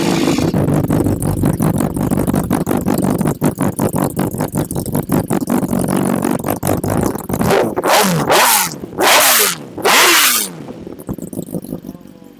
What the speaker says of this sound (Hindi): इसमें फुल सिस्टम एग्जॉस्ट लगा हुआ है लियोविंस का ओरिजिनल